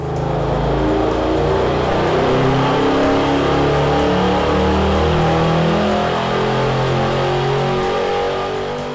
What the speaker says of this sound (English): Now we will fill the engine with the leading synthetic 5W40 oil and make our dyno run.